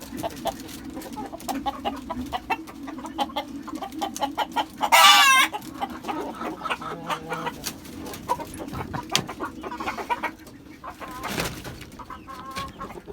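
Chickens kept on a rooftop with ducks, pigeons and quail, clucking close by in repeated bursts with a single loud crow in the middle and scattered bird calls throughout.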